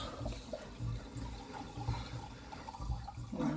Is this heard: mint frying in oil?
no